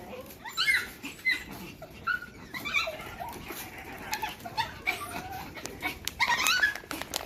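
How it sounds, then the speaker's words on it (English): Two dogs whimper and yip excitedly outdoors at morning feeding time with kookaburras nearby, in a run of high, thin whines and squeaks that rise and fall throughout, fairly close. "These two dogs just love seeing the kookaburras each day."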